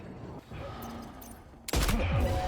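A sudden burst of loud gunfire from the video game Death Stranding 2 erupts near the end after a quieter, rumbling stretch, with several sharp shots in quick succession.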